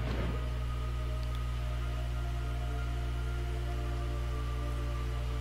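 Steady rain falls throughout a scene of the stealth video game Metal Gear Solid 3, an even, unbroken hiss over a low constant hum with no voices.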